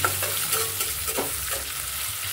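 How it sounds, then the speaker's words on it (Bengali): Onions sizzle and fry steadily in hot oil for haleem, a dense continuous crackle with soft stirring scrapes, close and alone without talk. "তাই পেঁয়াজটা আগে তেলে ছেড়ে দিলাম"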